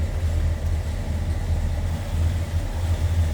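A 1966 Buick Skylark GS convertible's 401 V8 idles with a slightly lopey, low rumble, steady and close, with no talking over it.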